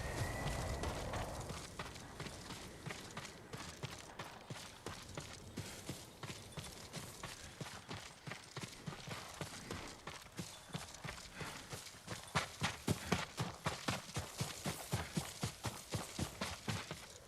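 A horse's hooves clip-clop steadily at a walk in the video game Ghost of Tsushima, close and rhythmic throughout, picking up to a quicker, louder gait near the end.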